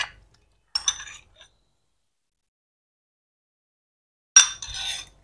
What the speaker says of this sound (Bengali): সস আমি নিলাম কত বড় চামচ দিয়ে